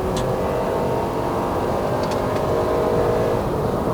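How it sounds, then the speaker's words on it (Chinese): A 2013 Honda CR-V 2.0L i-VTEC AWD pulls under full throttle with the air conditioning off, giving a steady, loud interior engine drone that holds throughout without a break. "做一个0到100的测试 ，AC off， 踩到完。"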